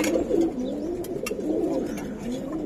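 Giribaz and coloring pigeons coo in a soft, repeated rolling rhythm, several low calls overlapping close by with faint chirps in the background.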